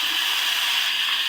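Shrimp hit hot frying garlic paste, setting off a loud, dense, continuous sizzle that holds evenly throughout, with no voices.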